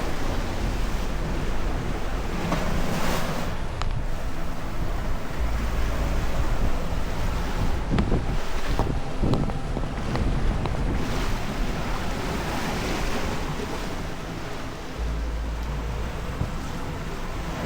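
Ocean waves breaking on a rocky Hawaii coastline with strong wind buffeting the microphone, a continuous loud roar of surf and gusts throughout, no speech.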